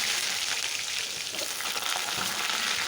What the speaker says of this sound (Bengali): এই দেখো আলুটা ভাজা ভাজা করে দিচ্ছি।